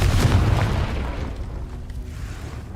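Confringo spell explosion in the video game Hogwarts Legacy: a loud, deep boom that bursts out at once, then rumbles and fades over a few seconds.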